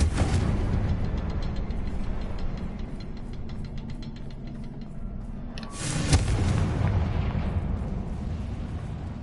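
Confringo blasting-spell explosions in Hogwarts Legacy rumble as a heavy, sustained roar, then a sharp loud blast bursts out near the middle before the rumble carries on.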